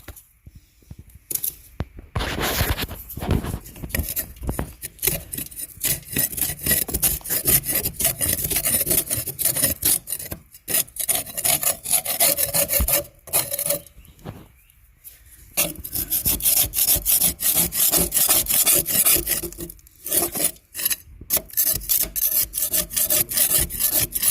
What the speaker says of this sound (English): My dad's sharpening the blades over there, so you hear the noise.